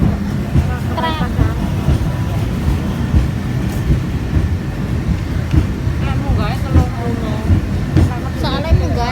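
Peak Tram climbing its steep track, a steady rumbling rolling noise with clicks and squeals, under near, continuous chatter from people.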